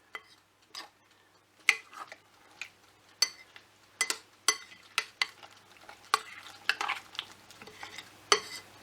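Chicken, onion and passata sauce stirred together in a pan, with repeated scraping and clattering strokes at an irregular rhythm, each stroke a sharp burst over a faint low background hum.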